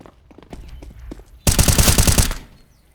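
Loud, rapid automatic gunfire from Counter-Strike: Global Offensive, a dense burst of about a second following quieter footsteps and small clicks.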